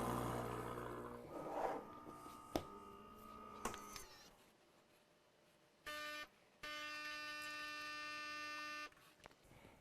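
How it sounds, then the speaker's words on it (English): A Gaggia Cadorna espresso machine brews a shot from preground coffee. A low mechanical hum and clicks give way to a short burst, then a longer, steady, tonal pump buzz. Fairly quiet, with no talking. "When we press brew, we'll get our shot of espresso."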